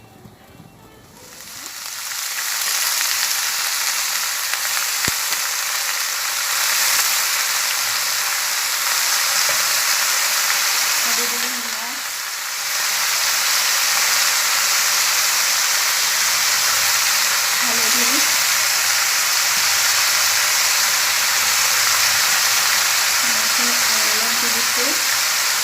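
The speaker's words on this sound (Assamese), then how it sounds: "কলডিলো ভাজি ল'লোঁ।" Banana flower frying in a pan, a steady broadband sizzle running nearly the whole length after a quiet start, with a few faint clinks of stirring and no talk.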